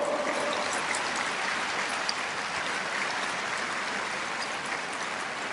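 Steady crowd applause at a church talk, a dense, even wash of clapping heard from a distance at a moderate level throughout.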